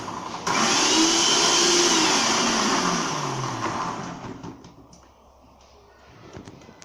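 A kitchen blender pureeing cooked pumpkin gives a loud, steady motor whir for about four seconds. Its pitch sags as the load thickens, then it winds down to a faint hum.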